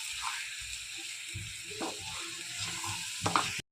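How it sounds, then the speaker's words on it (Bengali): Ground coriander, cumin and chili powder are sautéed in a pan for a paneer Mughlai paratha: a faint, low sizzle under soft stirring scrapes, ending in a few louder clinks. "একটু ধনিয়ার গুঁড়া দিয়ে দিলাম, একটু জিরা গুঁড়া দিয়ে দিলাম, দিয়ে একটু কষিয়ে নেব।"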